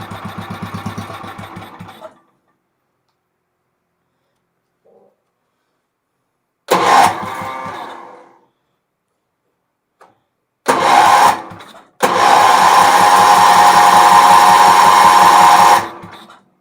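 A Wheel Horse 308-8 garden tractor engine cranks in a short burst, coughs briefly, then catches on a further try and runs steadily and loud for several seconds before cutting off, with quiet gaps between the attempts.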